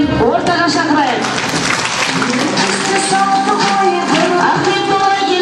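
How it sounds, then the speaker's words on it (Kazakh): An audience at a village brides' contest event claps in sustained applause over music and a voice on the loudspeaker, with people talking throughout. "Сондықтан да енді осы Өркендеу ауылымыздың келіндерін ду қол шапалақпен ортаға шақырайық"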